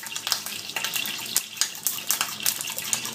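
An egg fries in hot boiling oil, crackling and popping in sharp irregular bursts over a continuous sizzle, close and fairly loud.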